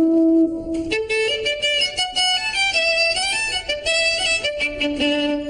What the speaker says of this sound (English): No, it's a violin.